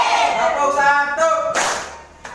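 A classroom of children claps in short counted bursts, the claps dense and fairly loud, mixed with brief voices calling out between them.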